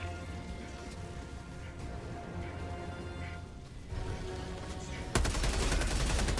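Heavy sustained gunfire from robot enemies in the video game Helldivers 2, a dense continuous fusillade that grows louder and harsher near the end, with no pauses.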